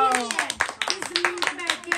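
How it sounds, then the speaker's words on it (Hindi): Several people clap at a birthday party at home, sharp uneven hand claps scattered over a couple of seconds, with voices talking and calling out over them. "बर्थडे हो गई है, तालियां बजाओ।"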